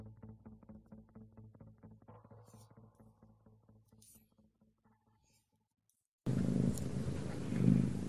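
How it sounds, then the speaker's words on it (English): A cat purrs close by in a quiet room, a soft rhythmic low rumble of steady pulses that slowly fades over several seconds, followed by a sudden loud burst of broadband noise. "I hear a cat."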